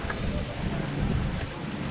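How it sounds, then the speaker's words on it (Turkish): Wind blows steadily outdoors in Calca, Peru, a constant low rumbling buffet against the microphone with no voices. "Şu an biraz sıcak ama rüzgar esiyor."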